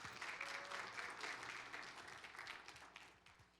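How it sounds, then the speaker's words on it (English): Audience applause at a new hires and promotion ceremony, steady dense clapping from a room of people, fairly faint and gradually tapering off. "Can we have a round of applause for Lucha and all her hard work?"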